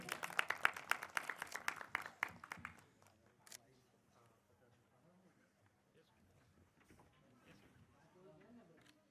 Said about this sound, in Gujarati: તાળીઓથી આપણે વધાવીશું.